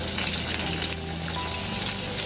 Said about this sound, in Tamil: இப்போ நம்ம வெட்டி வச்சுருக்க பச்சை மிளகாய் இதில் போட்டு தாளிக்க போகிறோம்